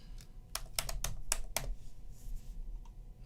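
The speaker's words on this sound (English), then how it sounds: "let's type prompt into the search bar" Several quick, crisp keystrokes on a computer keyboard typing a word into a MATLAB desktop search bar, in a short irregular burst and then one last tap, close and fairly clear.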